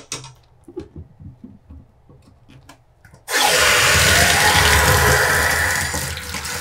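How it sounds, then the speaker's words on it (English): Very hot water gushes into a laundry room sink, a loud steady rushing stream that starts suddenly after a few seconds of quiet handling noises and keeps running. "Fill up my sink with very hot water"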